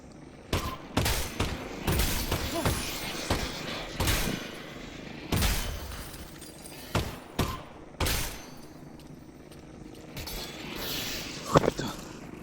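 Gunfire in the virtual reality game Half-Life: Alyx, a string of sharp close shots fired in quick irregular bursts, some spaced apart and a rapid cluster near the end.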